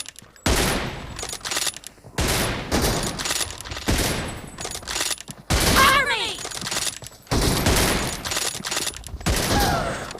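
Automatic rifle fire in PUBG Mobile, with the M416 and M24 in play: repeated bursts of rapid shots separated by short pauses, loud and close, with a voice speaking briefly in the middle.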